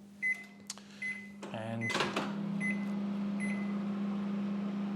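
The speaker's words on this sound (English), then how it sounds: "So the noise of the fan you can hear now, that's what it's just sounding like the whole time the microwave is on." A microwave oven running from a VTOMAN Flashspeed 1000 solar power station: a few beeps and a door clunk, then the fan starts into a steady, close humming whir that continues unbroken; a voice says a single word.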